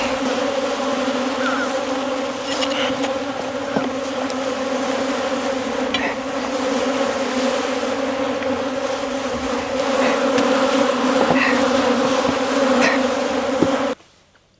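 Honey bees buzz at a bee yard during hive work, a steady, dense drone of many insects close by with individual bees zipping past, loud and continuous for the whole span before cutting off abruptly at the end.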